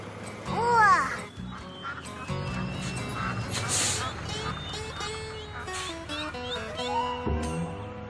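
Cartoon ducks quack a few times in a French-language Caillou children's animation, the calls coming early over music and busy background sound.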